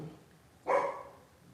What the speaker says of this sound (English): But they're dogs, so if they bark, you'll know why.